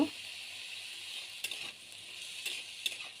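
Ridge gourd pieces with salt, turmeric and a little sugar frying in a pan, giving a steady, close sizzle with a few louder crackling bursts.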